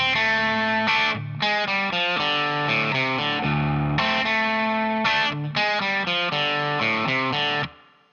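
A distorted electric guitar plays a choppy blues riff, short chords and notes, close and loud, ending in a brief pause.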